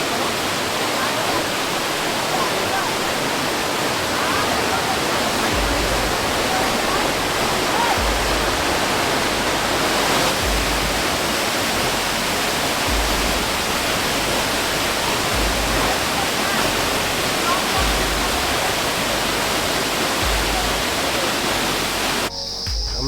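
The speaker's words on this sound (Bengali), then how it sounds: "জল পড়ছে।" A waterfall near Naukuchiatal in Uttarakhand pours in a steady, loud, dense roar of falling water that stays constant throughout, close by with no pauses.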